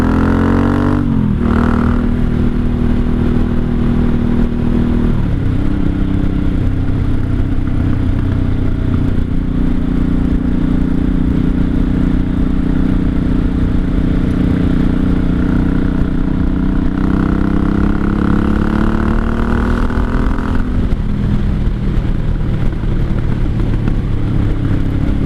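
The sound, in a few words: 1983 Honda Shadow VT750C motorcycle engine during ride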